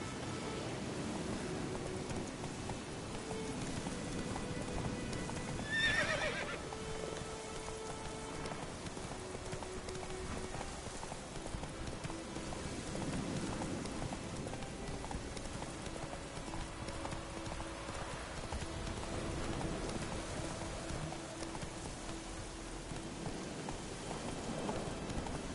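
In The Witcher 3 video game, a horse gallops with rapid, rhythmic hoofbeats under steady rain, moderately loud and continuous, with brief game sounds and faint speech.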